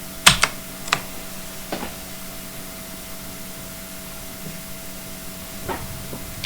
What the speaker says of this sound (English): press Ctrl V on your keyboard to paste